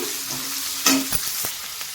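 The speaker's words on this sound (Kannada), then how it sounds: "ಈಗ ಇದಕ್ಕೆ ನಾನಿಲ್ಲಿ ಕಟ್ ಮಾಡಿಟ್ಟಿರುವಂಥ ಈರುಳ್ಳಿ ಕೂಡ ಹಾಕ್ತಾ ಇದ್ದೀನಿ" Chopped onions frying in hot oil give a close, steady sizzle, with a sharp clatter of stirring about a second in and a few softer knocks after.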